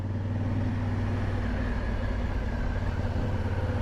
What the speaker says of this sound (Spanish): Ahí viene un auto allá arriba, una camioneta.